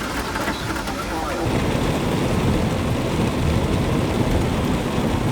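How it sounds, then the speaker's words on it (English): Heavy thunderstorm outside a parked van, with dense steady rain drumming and low rumbling thunder swelling midway and holding loud throughout. "It's quite a storm."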